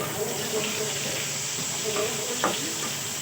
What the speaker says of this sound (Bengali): গরম তেল হয়ে গেছে, আলু আমি ছেড়ে দিলাম। আলুগুলো ভেজে তুলে নেব আমি।